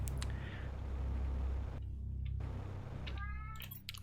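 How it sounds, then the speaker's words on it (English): A cat meows in a game world, a short rising call followed by another meow near the end, heard close over a steady low ambient drone. "Cat."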